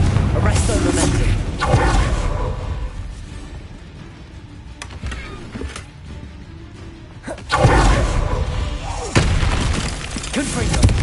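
Confringo blasting spell explosions in the Hogwarts Legacy video game, several loud bursting booms with shattering crackle and whooshes, spread across the stretch over a dense, busy game soundtrack, with voices talking throughout.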